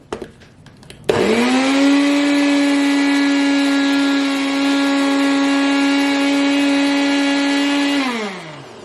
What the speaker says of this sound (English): So now I'm going to put it in the bullet.